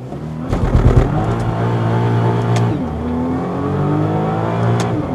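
Sports car engine revving hard to 4,000 RPM under launch control, a loud burst early then a sustained high-revving roar with pitch shifts, close and dominant throughout.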